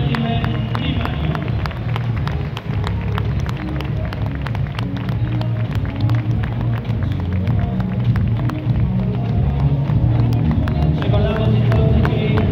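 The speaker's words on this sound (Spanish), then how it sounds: "Fuerte el aplauso entonces, todos juntos" A crowd at a science fair award ceremony applauds loudly and continuously for primary-school social science projects, with dense clapping blended with cheering and crowd rumble throughout.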